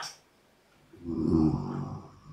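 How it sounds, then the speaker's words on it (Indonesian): A person snoring, one long rasping inhaled snore swelling from about a second in and fading toward the end, fairly close and loud with no talk over it. "Ada yang ngorok ini siapa?"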